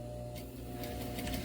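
A sewing machine stitches a fabric face mask with a steady, close mechanical whirring hum and rapid needle rhythm, running continuously and alone.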